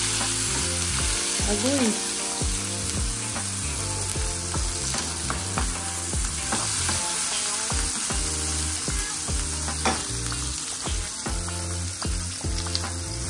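Sliced onion and tomato hit hot oil in a pan for ginisang sardinas, giving a steady loud sizzle with scattered stirring clatters and pan knocks, near and continuous, with a brief exclamation from a voice.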